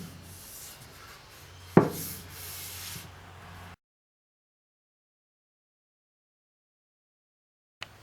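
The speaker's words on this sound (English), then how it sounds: "I pretty much finished all of the sanding" Fine 220-grit sandpaper rubs against a wooden cricket bat in short strokes with a sharp scrape partway, then the sound cuts to silence.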